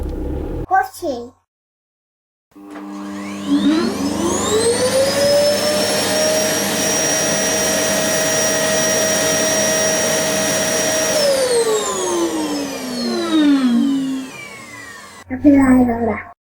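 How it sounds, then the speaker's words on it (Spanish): A household vacuum cleaner starts up, whines at a steady loud pitch for several seconds, then winds down, with a short spoken word just before and after. "Aspiradora."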